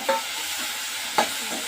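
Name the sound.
tomato pieces frying in a pan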